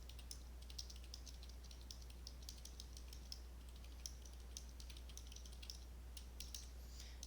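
Soft, quick keyboard taps clatter in irregular bursts, fairly faint over a steady low electrical hum, with no voices.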